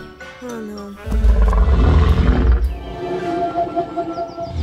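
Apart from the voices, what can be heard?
T-Rex roar sound effect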